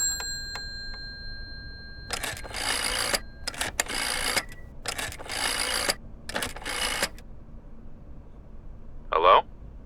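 Telephone call connecting in the horror game Layers of Fear: several loud, evenly spaced ringing bursts separated by short pauses, then a brief click at the end, with no talk.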